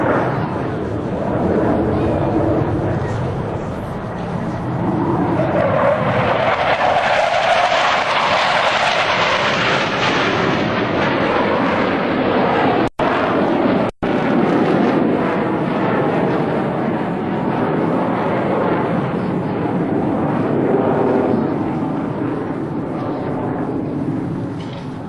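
US Navy Blue Angels F-18 jets roar through a display at the 2003 New York International Airshow, a loud, sustained jet rush that swells and fades, with a brief dropout midway and faint announcer speech underneath.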